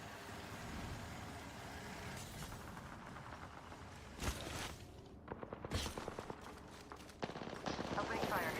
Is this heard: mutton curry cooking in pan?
no